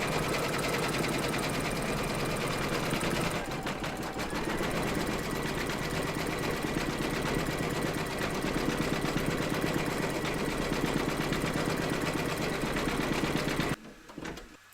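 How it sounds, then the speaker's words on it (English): An embroidery sewing machine stitches in white thread with a loud, continuous, dense mechanical whir close by, running steadily and then stopping abruptly near the end. "Load your thread colour for the open pages into your machine, and then stitch round number 4"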